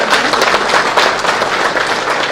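Loud, dense applause from an audience in an auditorium at a Tamil film producers' association election candidate introduction, continuous close clapping with no pauses.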